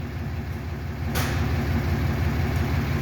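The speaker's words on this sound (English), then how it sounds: "shot of the exhaust of the motor running" A 2017 Dodge Ram 3500 pickup engine idles at the exhaust, giving a steady, loud, close low rumble with an even throb that continues throughout, with no voices.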